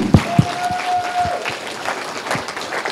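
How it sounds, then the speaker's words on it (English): An audience applauds at a live talk, a brief burst of clapping from a crowd that holds fairly steady across a few seconds. "Let's give Adam a round of applause."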